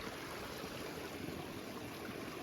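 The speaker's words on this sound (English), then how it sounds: "here's a creek." A mountain creek in Mt. Assiniboine Provincial Park runs with a steady, soft rushing that does not let up, heard as a faint backdrop with no voices.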